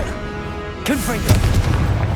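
A Confringo blast spell explodes in the video game Hogwarts Legacy, with a couple of sharp booming bursts close together as a voice shouts over them.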